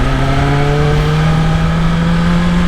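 A 2025 BMW M1000XR motorcycle engine pulls steadily while riding, a loud, close, continuous tone rising slightly in pitch as it accelerates, with wind roar underneath.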